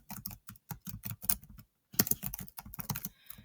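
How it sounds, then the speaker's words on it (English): Rapid clatter of fingers typing on a computer keyboard, close and distinct, in two quick bursts separated by a short pause, with no voices. "you're just going to type in this sentence"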